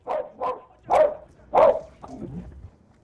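A dog in a video game barks four times in quick, uneven succession, close and loud, then trails off into a soft whine.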